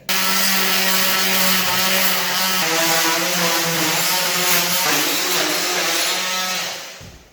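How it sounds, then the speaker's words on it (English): A multi-tool cuts down the back of a door architrave where it meets the plasterwork, a loud continuous high-pitched buzzing whine that shifts pitch as it bites, then cuts off abruptly near the end. "we're just going to go down the back of our architrave where it meets the plasterwork with a multi-tool just to be safe"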